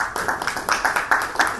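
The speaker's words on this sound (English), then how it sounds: "please welcome her with a round of applause" Round of applause from a conference audience welcoming a speaker at a parallel session, with distinct claps rising and falling in loose rhythm, moderately close and fairly loud.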